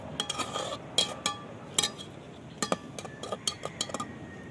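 A metal lid is set on a pot of potato curry (aloo dum), producing a close series of light metallic clinks and clatters over a quiet kitchen background, with no talk.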